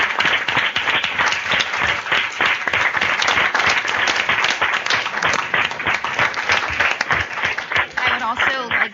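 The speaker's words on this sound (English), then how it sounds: "So can we just give a round of applause to the educators who brought us here today?" Sustained audience applause fills a student leadership conference hall at the United Nations in New York, dense and loud throughout with a voice briefly audible near the end.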